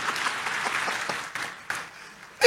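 Audience applause in a church service fills the clip, a dense run of clapping that thins toward the end, with no talk.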